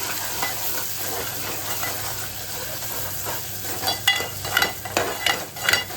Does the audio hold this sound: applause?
no